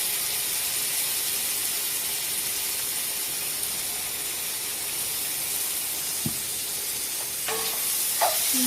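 Minced garlic sizzles steadily in a hot skillet, a constant loud frying hiss with a few brief clinks and scrapes near the end.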